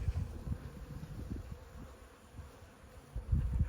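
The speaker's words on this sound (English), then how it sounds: "The bees came back." Bees buzzing around a hive outdoors, a steady soft low hum of many insects close by with faint rustling, no voices.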